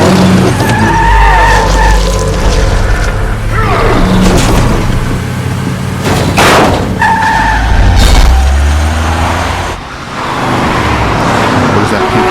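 A car drives fast and skids in The Wolf Among Us video game, a loud, continuous engine roar with repeated tire squeals and a few heavy thuds, briefly dipping near the end.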